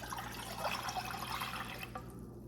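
Four cups of water pour into a pot for rice with a steady, close splashing gush that fades off near the end.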